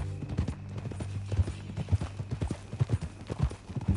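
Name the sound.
horse hooves clip-clopping, from a video game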